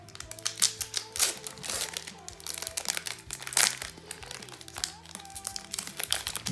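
A Pokémon XY booster pack wrapper crinkles and crackles loudly up close as it is torn open, continuous busy rustling with sharper crunchy bursts, backed by a steady low musical bed.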